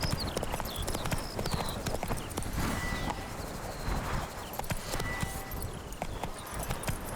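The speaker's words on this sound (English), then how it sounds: "Run, Roach. Run, Roach." A horse gallops in The Witcher 3 video game, its hooves beating a fast, steady clip-clop under wind, with a few faint bird calls in the background.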